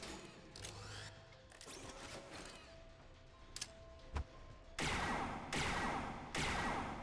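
Gunfire in a zombies video game, scattered single shots and clicks early on, then three loud, dense bursts of rapid fire near the end, with no talking.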